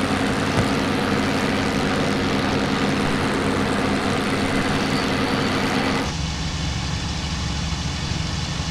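Steady, loud propeller drone of a Bf 109 F fighter engine in the IL-2 Sturmovik flight game, running continuously at high revs before easing to a lower, quieter hum near the end.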